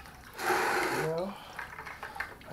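Water from a small homemade recirculating sluice box is dumped back into it in one brief gushing pour, followed by quieter trickling and splashing.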